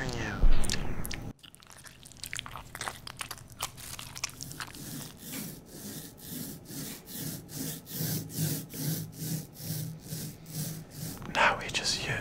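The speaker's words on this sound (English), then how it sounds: "Now we just use our roller to apply paint onto the stamp." Paint roller spreading black fabric ink onto a stamp for a DIY industrial-style belt, heard as close, sticky rolling strokes repeating in a steady rhythm after a brief clatter at the start.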